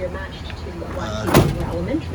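A door closing on a 2006 Ford E350 high-top handicap-accessible van, one muffled thud in the middle amid steady background noise and a nearby voice.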